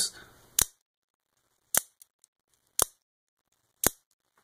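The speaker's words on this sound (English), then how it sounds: "It's got that satisfying thud, that click, that engagement" A Spyderco Manix 2 folding knife's lock clicks into place four times in a steady rhythm, each a crisp, close click separated by silence.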